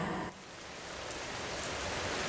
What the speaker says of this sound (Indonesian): Tiba-tiba, hujan deras melanda.